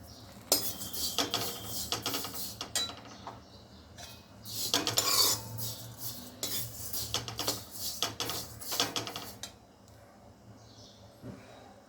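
Niger seeds roast in a pan for chutney, with metal spatula scrapes and stirring clatters in irregular bursts against the cookware, close and fairly loud.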